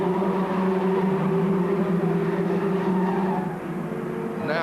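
Formula Ford race cars at speed in the 1986 Formula Ford Festival final, a loud sustained engine drone with steady tones that eases slightly near the end.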